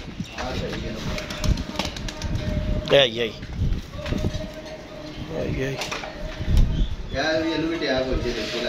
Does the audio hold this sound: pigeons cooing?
yes